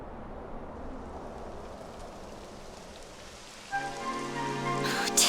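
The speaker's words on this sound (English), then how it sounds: "It would have to go and start raining, wouldn't it?" Rain falls steadily as a dense hiss in the Dragon Quest XI S game, with a musical passage rising over it in the final seconds.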